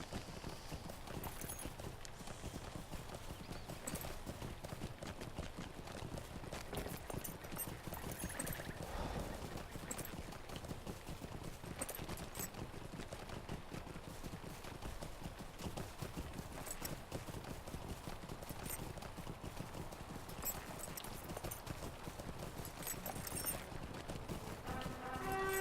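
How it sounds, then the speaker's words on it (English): Horse hooves clip-clopping in the fantasy video game LOTRO, a steady rapid rhythm of hoofbeats running continuously and evenly loud, with faint game ambience beneath and no talk. "I will just hop on my horse"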